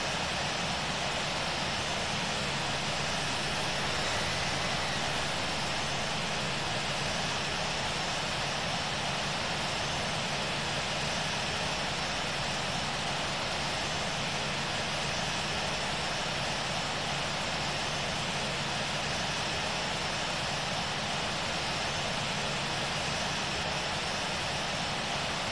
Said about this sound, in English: November 653 Victor Romeo is taking off runway 25